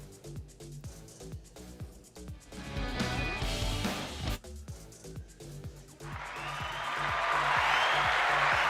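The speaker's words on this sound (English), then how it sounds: "can add some applause. The audience loves our broadcasts." A canned applause sound effect is faded in from a podcast soundboard over background music, swelling from nothing into a loud, steady wash of crowd clapping that grows through the final seconds.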